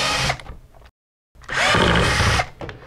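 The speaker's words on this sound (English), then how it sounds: "What we will do is remove the mounting screws." A power drill backs out the mounting screws on an RV power converter: two loud, close motor bursts, a short one and then a longer whirring run, separated by a moment of silence.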